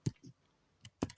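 A computer mouse clicked in quiet surroundings: a couple of soft isolated clicks, then a quick, crisp double click at the end.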